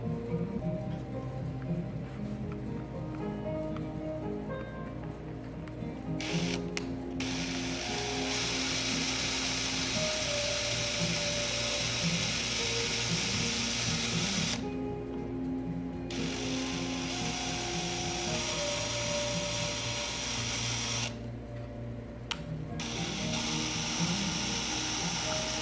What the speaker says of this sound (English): I was able to get all the holes drilled without cracking any